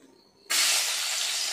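Oil in a frying pan bursts into a loud, steady sizzling hiss that starts suddenly after a quiet moment and holds close and even to the end.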